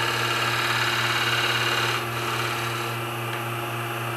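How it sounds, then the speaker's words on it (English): A Hunter Viceroy tool shear scraping a wooden bowl on a lathe, a steady close rasping scrape over the lathe's constant hum, easing slightly partway through. "I turn it over like this, and now it becomes a shear scrape, and it won't tear up my bowl"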